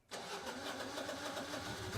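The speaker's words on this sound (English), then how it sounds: "Put the generator's mode switch in manual and wait for the engine to start." A Generac Guardian standby generator engine starts up, cranking and catching almost at once, then settling into a steady, even mid-pitched running drone that stays constant and close.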